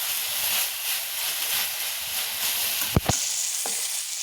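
Vegetable filling for veg rolls fries over a high gas flame, a steady loud hiss and sizzle with a couple of sharp utensil clinks near the end, close and with no talking.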